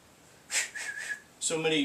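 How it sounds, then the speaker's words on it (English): A team leader's whistle sounds in two bursts, a short shrill blast followed by a longer, wavering tone and then a louder second blast, heard close and clear. "you use a whistle"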